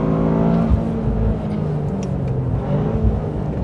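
A 2023 Toyota GR Corolla Morizo Edition with all-wheel drive pulls hard on a race track, its engine roaring loud and close from inside the cabin.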